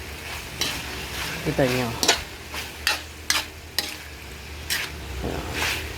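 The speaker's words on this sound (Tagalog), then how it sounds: "Pero haluin muna natin." A spoon stirs frying food in a pan for igado, giving repeated scraping strokes over a steady low sizzle, with a brief spoken word partway through.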